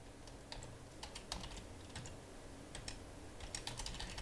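Someone types on a computer keyboard while writing a PowerShell command, giving quick irregular key clicks in short bursts, faint and close, with no talk.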